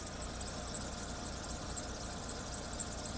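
A 2010 Dacia Stepway with a 1.6 MPi petrol engine idles steadily after sitting two days in minus ten degree frost, a continuous even hum with no audible misfires, heard alone.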